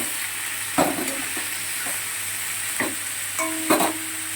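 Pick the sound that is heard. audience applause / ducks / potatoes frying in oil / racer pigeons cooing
potatoes frying in oil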